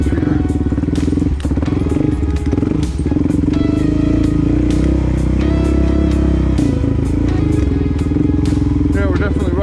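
A 2020 Suzuki DRZ400S motorcycle rides a single-track dirt trail, its engine a loud, steady rumble with gear changes and clattering bumps, and a rider talks over it.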